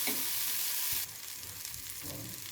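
Food frying in a pan with chaat masala is stirred, giving a close, steady hiss with soft scraping that drops slightly in level about a second in and then continues evenly.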